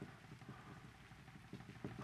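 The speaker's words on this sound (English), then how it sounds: "That rain is coming down out there today." Steady rain coming down outside, a constant hiss with low patter and a few slightly louder surges, moderately close and alone.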